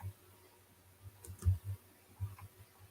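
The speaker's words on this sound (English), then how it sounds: "they can just hear the sound of clicking, you clicking the mouse" Computer mouse clicking close by: a handful of soft, irregular clicks, some in quick pairs, against a quiet background with no talking.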